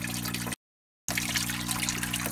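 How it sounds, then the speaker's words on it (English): Water splashing out of an aquarium pump in a fish tank, a loud, steady rushing trickle with a low hum beneath, briefly cut to silence before resuming. "it's quite loud because of the water coming out of the pump here"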